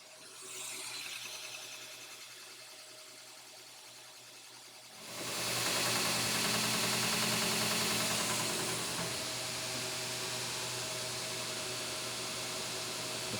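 A 2x72 belt grinder grinds a weld bevel on a Wilton 800 vise part during restoration, its motor spinning up from a softer hum into a loud, steady broadband roar that holds without a break.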